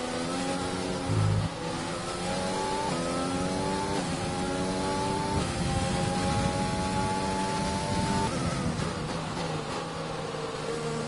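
A Formula 1 car engine in the F1 2020 racing game at the France Grand Prix drones loudly and continuously, its pitch rising through gear after gear with brief drops at each shift.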